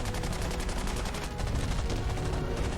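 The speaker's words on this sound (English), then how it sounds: "Tommy gun." A Tommy gun firing in a Fallout 76 video game trailer, a continuous loud rapid rattle of automatic shots with a brief dip midway before resuming, under music.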